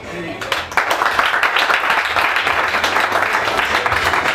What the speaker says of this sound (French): Vous méritez vraiment un tonnerre d'applaudissements.